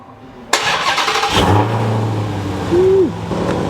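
2020 Dodge Challenger Hellcat Redeye V8 barking to life with a sudden loud start, then settling into a deep, steady rumbling idle, with a short rising whine near the end.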